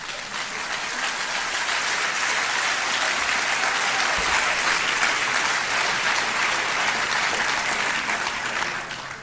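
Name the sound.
audience cheering and applauding a joke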